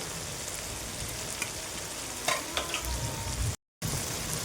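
Tomato curry masala with turmeric, red chilli powder, green and dried chillies sizzles and fries steadily in a pan while being stirred, with a few scraping clinks, ending in a brief cut of silence; no talking.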